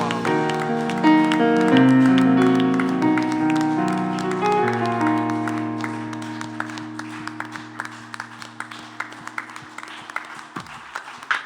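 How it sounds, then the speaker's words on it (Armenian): Sustained music fades as a crowd begins clapping together in a steady rhythmic beat that carries on to the end. "Եկեք միասին բարձր ծափարենք"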